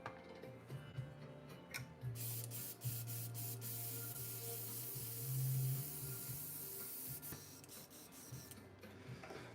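An airbrush sprays paint onto a miniature in soft, close bursts of hissing air, repeated several times over a quiet background hum, with no voices.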